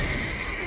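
A horse neighs in The Witcher 3, a short, loud whinny heard alone with no talk over it.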